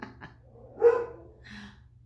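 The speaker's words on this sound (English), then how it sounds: "excuse my dogs" Dogs bark indoors during a talk about squat shoes: a couple of short yips early, then one louder bark near the middle and a fainter one toward the end, fairly close.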